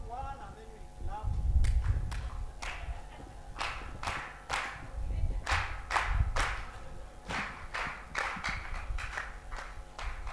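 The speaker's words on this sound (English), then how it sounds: "So I'll count one and then we'll clap." An audience at an innovation week event claps together on a count, producing a rhythmic run of sharp, unified claps spread across several seconds, with murmuring voices underneath.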